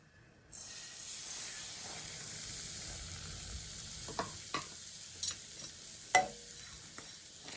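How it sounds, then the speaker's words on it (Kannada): Semolina roasts in a little oil in a pan with a steady soft sizzle, punctuated by a few sharp scraping clicks of a spoon stirring. "ರವೆ ಬಂದು ಲೈಟ್ ಗೋಲ್ಡನ್ ಕಲರ್ ಫ್ರೈ ಆಗೋವರೆಗೂ ಫ್ರೈ ಮಾಡ್ಕೊಳ್ಳೋಣ"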